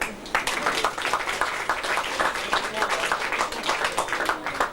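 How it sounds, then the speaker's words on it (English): An audience at a magician's show in a hall gives a modest round of applause, irregular clapping from a small crowd at moderate distance, with voices murmuring faintly underneath. "a small round of applause there"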